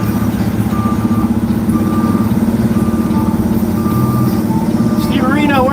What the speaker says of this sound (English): It's very noisy. Beeping and stuff here.